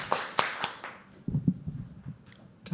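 A handful of scattered, faint hand claps from a small audience at a live open-mic poetry event, three quick claps at first, then a few softer, sparse ones before quiet murmurs.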